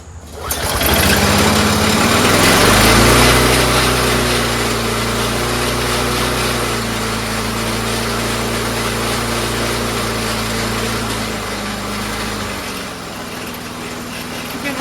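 A Briggs & Stratton Quantum 4HP engine on a Troy-Bilt 22-inch self-propelled mower, rigged with a makeshift governor linkage, runs loud and close, revving briefly before settling into a steady idle that drops away near the end.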